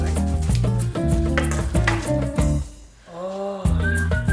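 A spoon stirs coleslaw dressing in a bowl, scraping and clinking in quick repeated strokes with a short pause near the end, loud and close.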